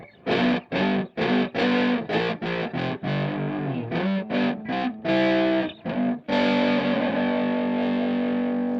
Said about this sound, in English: it could be a Fender with a nice, really nice overdrive on it